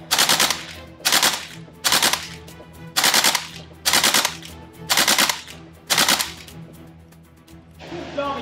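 An airsoft AK rifle fires biodegradable BBs in full-auto bursts, about seven sharp, evenly spaced rattling volleys close up, with short pauses between them and no talking.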